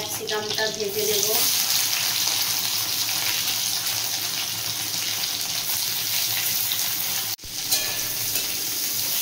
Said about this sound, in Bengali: ওই তেলের মধ্যে আমি ক্যাপসিকামটা ভেজে নেব।